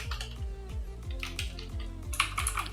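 Typing on a Redgear Shadow Blade MK853 mechanical keyboard, with a steady run of close, loud keystroke clicks and clacks in quick rhythm and a few sharper taps near the end.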